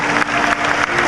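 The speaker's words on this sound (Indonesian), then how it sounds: "Tepuk tangan, Masya Allah." Audience clapping, a brief, steady burst of dense applause heard up close with no talk over it.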